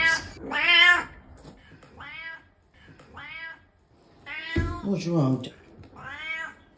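A house cat hollering in a run of loud, drawn-out meows, each wailing cry separated by short pauses, with a person briefly speaking between calls.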